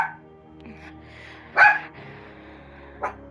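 A dog in the video game Firewatch, a single loud near bark then a softer second one, over a quiet game background.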